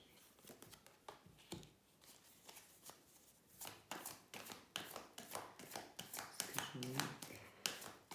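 Oracle cards are shuffled by hand in a quiet room, with repeated soft riffling and tapping in an irregular rhythm that grows busier and louder toward the end, while a person speaks now and then.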